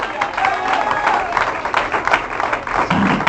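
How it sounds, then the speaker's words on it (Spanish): A church congregation claps and cheers together during a worship service, a brief burst of dense applause with a few voices rising over it. "Le damos un aplauso al Señor."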